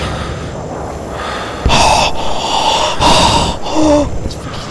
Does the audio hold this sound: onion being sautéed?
no